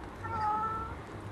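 A small kitten hiding under a car gives a single thin, drawn-out meow, fairly faint against a low background hum.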